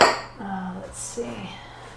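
Ceramic bowls clink and knock as they are set out on a kitchen counter for cauliflower rice bowls, a few brief close contacts with a faint voice murmuring underneath.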